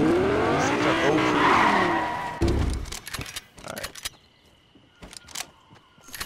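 Cars, including a Lamborghini, skid with squealing tires and revving engines during a video game car update, followed by scattered clicks and game effects, with a player talking over the action.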